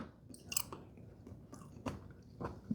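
Close, wet chewing of roasted potato from a sheet-pan dinner with sausage and green beans, with soft crunchy bites and mouth sounds in irregular bursts and no talking.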